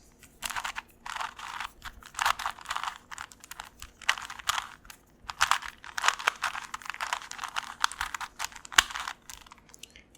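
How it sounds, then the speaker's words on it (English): A Rubik's Cube is twisted up close for ASMR, giving bursts of quick plastic clicks and clacks in irregular rapid runs separated by brief pauses. "next on the underrated list is Rubik's Cubes"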